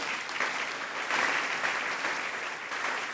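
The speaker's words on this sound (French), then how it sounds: "Acclamons la parole du Seigneur." Congregation in a church applauding, a dense continuous wash of many hands clapping together at a moderate distance, steady for the whole stretch without talk.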